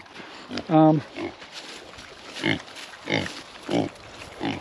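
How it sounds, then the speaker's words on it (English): Affectionate pigs grunt in short bursts close by as hay is brought out to them, with a person speaking over and between the animal sounds. "Today we're going to be bringing some hay out to these guys, and they're very affectionate pigs."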